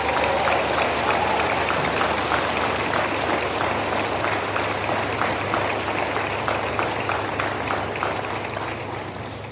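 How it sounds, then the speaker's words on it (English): A large crowd at an Officer Candidate School graduation ceremony in Newport claps steadily and densely for several seconds, the applause holding strong before tapering slightly toward the end. "How about a round of applause for class"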